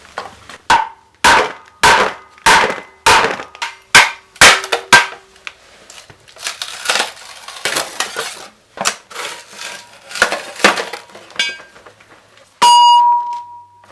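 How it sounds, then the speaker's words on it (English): A ball-peen hammer pounds a scrap aluminium cylinder in a quick series of loud, ringing metallic strikes, regular at first and then more scattered, ending in a few clanks as pieces shift. "I'm just excited to use my next little buddy, the man hammer"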